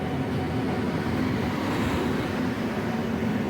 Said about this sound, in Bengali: আমাদের ট্রেন চলে এসেছে, এখন ট্রেনে ওঠার পালা।